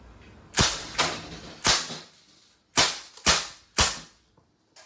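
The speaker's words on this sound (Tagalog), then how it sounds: "Testing Crossman A4P. Semi-auto." A Crosman A4-P CO2-powered blowback airgun fires on semi-auto, giving six sharp, loud cracks at uneven intervals, each with a short decaying tail.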